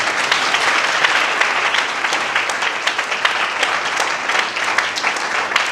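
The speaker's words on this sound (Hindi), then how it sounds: "तो ताली बजा के खुदा का नाम करें।" A church congregation applauding during a sermon, loud continuous clapping from many hands with crisp individual claps standing out, filling the space without any speech.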